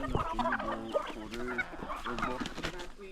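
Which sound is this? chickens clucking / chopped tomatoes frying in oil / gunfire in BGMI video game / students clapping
chickens clucking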